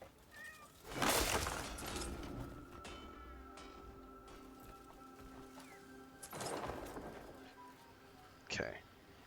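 A cat meows a few times in the Crimson Desert game, mid-distance calls amid crashing bursts and other game sounds.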